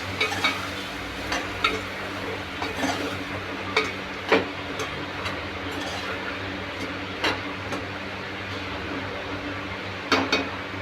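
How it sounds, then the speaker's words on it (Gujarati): Potatoes and cluster beans are stirred in a cooking pan over a low, steady sizzle, and a spoon scrapes and knocks the pan every second or so. The sounds are close and clear, with no talking. "બટાકા ગવાર નાખ્યા પછી થોડું હલાવી લઈશું"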